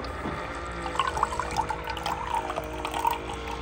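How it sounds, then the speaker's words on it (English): A Bartesian cocktail machine on first use pumps water from its tank through the line. Trickling and gurgling run steadily alongside a low mechanical hum, with no voices. "what it's doing is pulling the water from the tank and running it through the line also too"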